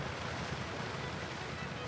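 Ocean waves and wind wash steadily around a ship sailing across open sea in a video game. The broad, even surf noise is continuous for the short stretch, with no talking.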